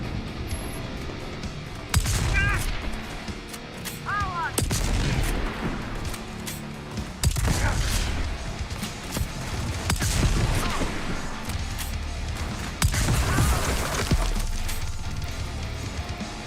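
Shotgun blasts in the video game Starfield, modded, several loud booming shots spaced a few seconds apart over continuous dense game noise, with no talking.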